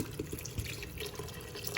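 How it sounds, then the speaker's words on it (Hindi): Water poured into a pressure cooker of Lahori mutton karahi in a home kitchen, heard as a steady, soft, splashy stream with faint drips, no voices. "पानी डाल देते हैं इसके अंदर"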